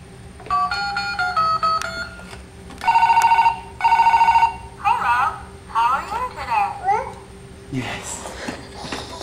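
A toddler's toy phone rings with repeated electronic bell bursts and cartoonish melodic chirps, close and loud, while an adult talks and a young child vocalizes between the rings.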